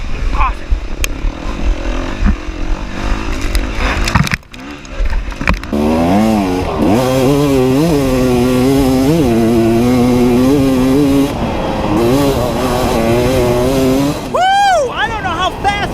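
A dirt bike engine revs hard during a harescramble race at Knobby Acres, its close, loud buzzing pitch climbing and dropping repeatedly as the throttle opens and eases, with a rider's voice heard over it.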